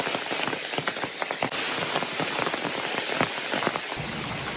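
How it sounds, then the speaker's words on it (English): Heavy pouring rain on the Appalachian Trail, a dense steady hiss of drops with scattered sharper taps on nearby surfaces, loud and continuous throughout with no voices. "it's pouring rain"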